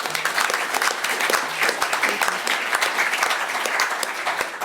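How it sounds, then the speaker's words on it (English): An audience applauds a speaker named Rosie at a student crit, dense steady clapping from a crowd, loud and continuous for several seconds with no talk over it. "can we give Rosie a round of applause for her remarks?"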